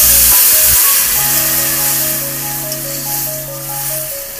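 Water poured into a pan of frying banana-flower curry with chickpeas, a loud close hiss and sizzle that rushes up then settles into a steady bubbling steam.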